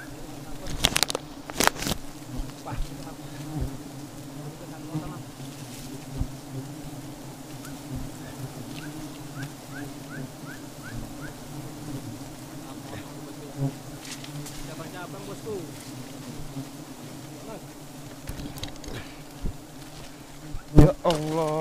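Bees swarm and buzz steadily around a wild honey nest on a tree branch in Sumatra, a dense continuous drone close to the listener with brief sharp crackles and a few voices talking.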